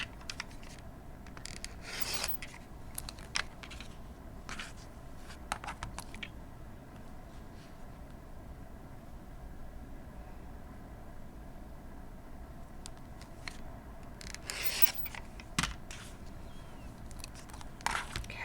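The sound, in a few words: cutting fabric squares for a mug rug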